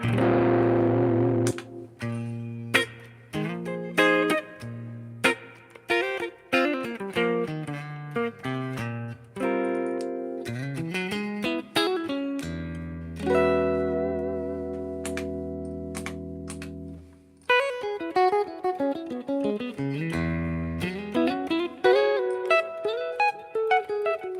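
Electric guitar played through effects with distortion, picking out jazz-style chords and single-note runs in a loose, uneven rhythm, with sustained ringing notes and some held chords, up close with no talking.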